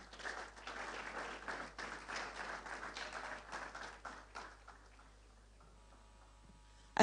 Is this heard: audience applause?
yes